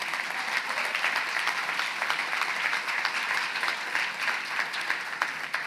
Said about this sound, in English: Somebody should clap, yeah.